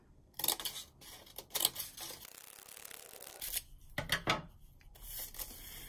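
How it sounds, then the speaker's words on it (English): Scissors snip a fringe into folded paper in short crisp bursts, several cuts with pauses between, close up and without talking. "take a scissors and cut a fringe on the fold all the way down the line"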